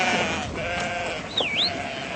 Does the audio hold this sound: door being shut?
no